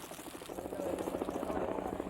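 A helicopter bringing food supplies to a remote Amazonian indigenous community, its steady rotor drone rising and sustained in the distance over background ambience.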